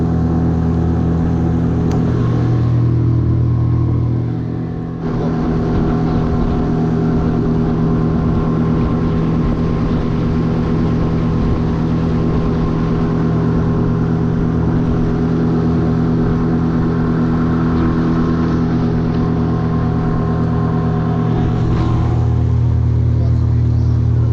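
A boat's 20-horsepower outboard motor, carrying three people, drones steadily with a low rumble as it pulls away, holding at a constant loud level, with water and wind noise mixed in.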